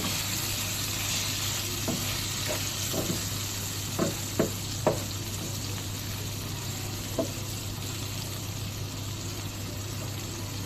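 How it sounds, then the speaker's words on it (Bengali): Pointed gourd frying in a pan for a beef and potato curry, a constant hissing sizzle with scattered spatula scrapes and taps at irregular intervals. "আর পটল ভাজি প্রায় হয়ে গেছে"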